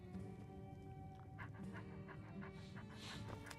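Faint, quick rhythmic panting of a dog in the Skyrim video game, repeated breaths over a low ambient game background, with no speech.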